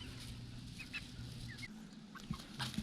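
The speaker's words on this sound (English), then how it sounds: "Here's the meat birds." Meat chickens raised on a farm cluck softly on a hot day, with a few scattered, faint calls over a low steady background hum.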